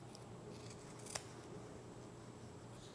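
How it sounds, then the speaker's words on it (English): Scissors snip once through the fabric corners of a sewn tailored waistcoat, a single brief crisp cut in an otherwise quiet room. "And now trim your corners."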